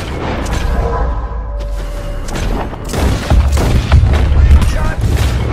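Gunfire and booming blasts from the video game Red Dead Redemption 2, loud heavy reports and rumbling impacts building toward the end, with someone speaking at the start.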